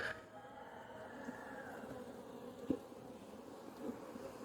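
Honeybees buzzing inside a large hive during a brood inspection, a steady soft hum from many insects close by with a faint click partway through, no talking.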